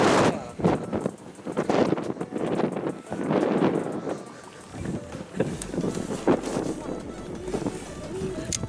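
Strong seaside wind buffets the microphone in steady gusts and rumbles during shore fishing for horse mackerel with a metal-tip rod, while people talk throughout.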